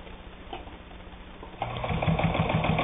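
A Necchi Supernova Ultra, an Italian-made sewing machine fitted with a leather needle, stitches through two layers of leather. A soft mechanical hum jumps to a louder, steady whirring run about halfway through, close by.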